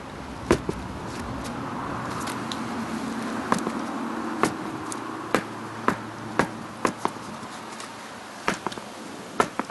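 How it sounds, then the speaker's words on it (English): The rear tire of a Chinese scooter being bounced up and down on the ground, making a series of sharp rubbery thumps at an uneven pace over a faint background hum. "By bouncing this tire, you're going to expand the border of the tire"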